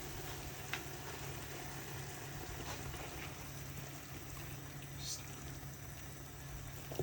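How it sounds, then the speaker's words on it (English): A pot of Nigerian bitter leaf soup (ofe onugbu) with ogiri boils steadily, giving a constant low bubbling and hissing wash with faint clicks, heard alone and fairly quiet. "Okay, so allow it to boil."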